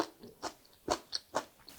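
Crunchy braised bean sprouts with tofu are chewed up close in about five quick, crisp bites with short pauses between them, against a quiet background.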